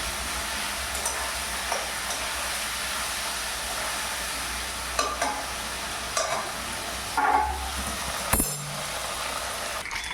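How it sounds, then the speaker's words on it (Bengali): Fish heads stir-fried with spices, onion, garlic and ginger in a pan make a steady, close sizzle, with occasional spatula scrapes and clacks against the pan and no talking. "এবার ভালো করে মাছের মাথাগুলো একটুখানি মশলা দিয়ে ভালো করে নেড়ে নিলাম।"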